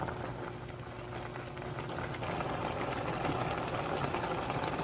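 A pot of ramen noodles, three packs, simmers with a spoonful of soybean paste, giving a steady broadband bubbling and hiss that grows slightly louder midway, close and continuous with no talk.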